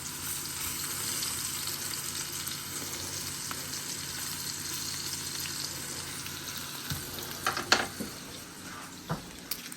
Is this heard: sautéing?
yes